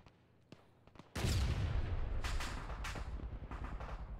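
A tank's main gun fires once in a video game, a sudden loud blast after near silence, followed by a long rumbling decay with scattered crackles.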